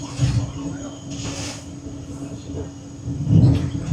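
A Vande Bharat Express train running through Kashmir near Pampore station gives a steady rumbling hum inside the carriage, with louder swells of rolling noise and a person speaking over it.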